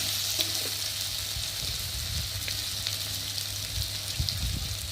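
Garlic fries gently in oil, a soft, even sizzle with light crackles and occasional stirring taps, fairly quiet and close.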